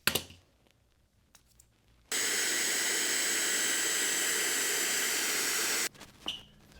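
Skateboard bearings are dried by blowing air through them: a few faint clicks, then a loud, steady rushing hiss of air for nearly four seconds, followed by brief rattling as the bearings are spun.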